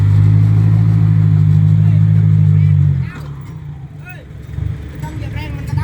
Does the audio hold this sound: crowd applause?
no